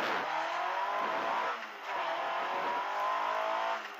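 A race car pulls away at Noosa, its engine revving hard through several rising bursts with gear changes, loud and close, with a roaring exhaust and no talk.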